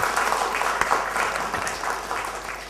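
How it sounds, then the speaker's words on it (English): An audience claps for Swamiji at a gathering in a native village, a steady wash of applause that runs loud throughout and tapers slightly toward the end. "give big clap for Swamiji."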